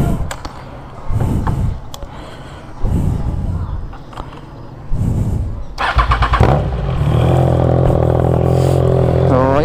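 A new Triumph Trident 660 motorcycle cranks and fires up nearby, preceded by some clatter and handling noises, then settles into a loud, steady idle.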